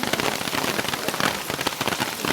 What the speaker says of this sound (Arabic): الدنيا قلبت شتا يا جماعه